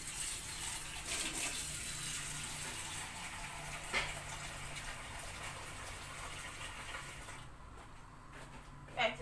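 Water runs into a container in a home kitchen during dinner cooking: a steady, soft, close gushing stream that continues for several seconds and then eases off.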